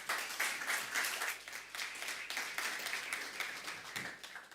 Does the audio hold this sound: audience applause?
yes